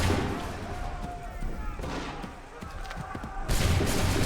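Musket volleys and heavy booming gunfire in Assassin's Creed 3 roar loud and dense in sustained waves, with a sharp renewed burst near the end and shouted voices mixed underneath.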